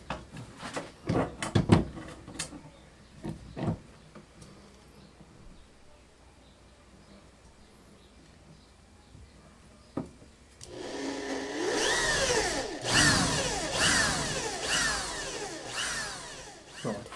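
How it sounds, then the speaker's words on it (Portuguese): A power drill bores into the rim of a handmade snare drum, a loud whirring grind rising after several knocks and handling taps, running steadily for the last several seconds. "furei aqui a emenda, furei uma das pontas do aro"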